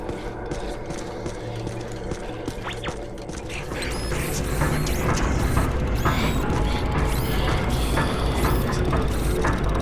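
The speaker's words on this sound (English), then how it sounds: "It's an orrery, a device typically used for predicting planetary alignment." An orrery mechanism in Ghostbusters: The Video Game gives off continuous clicking, ratcheting and whirring gear noises that swell louder partway through, with metallic creaks on top.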